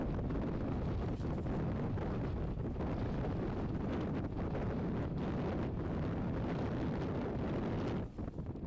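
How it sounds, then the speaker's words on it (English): Strong wind blows outdoors at a petrified wood dig site, a loud continuous broadband roar buffeting the microphone with gusty surges throughout, easing briefly near the end. "Boy, the wind's blowing."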